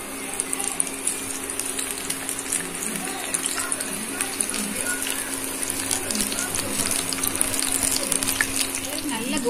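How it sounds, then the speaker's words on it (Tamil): Small mushroom balls fry in hot oil for a roadside-style snack, giving a continuous dense sizzle and crackle close by, with a voice talking over it. "ஆயில் நல்ல ஹீட் ஆன உடனே இத நம்ம குட்டி குட்டி உருண்டையா பிடிச்சு போட்டு பொரிச்சு எடுக்கணும்"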